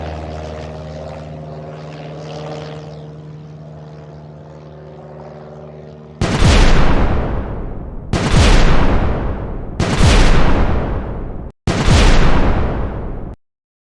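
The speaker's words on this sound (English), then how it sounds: "Tank fires back with a bright red rocket." Four cartoon rockets fire and explode in quick succession after a calm musical stretch, each a loud sudden roaring burst that fades over about a second, with short gaps between them.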